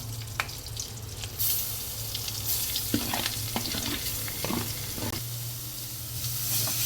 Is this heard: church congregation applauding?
no